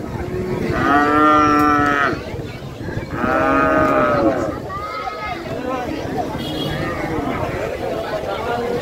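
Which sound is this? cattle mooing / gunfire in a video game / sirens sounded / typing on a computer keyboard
cattle mooing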